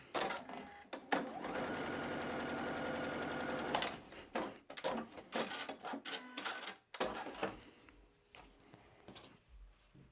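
A white sewing machine stitches a quilt block, its motor running in a steady continuous whir for several seconds, then breaking into short irregular bursts and pauses as the fabric is repositioned.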